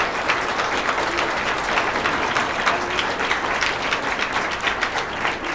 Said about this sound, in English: I think that all of them deserve a round of applause from you too